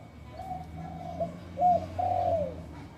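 A caged wild bird repeats short, whistled cooing calls in a few separate bursts, fairly close and clear over a low background hum, with no one talking.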